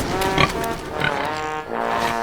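Pigs on a pig farm squeal and grunt in a quick succession of nasal, pitched calls, close and fairly loud with no talking.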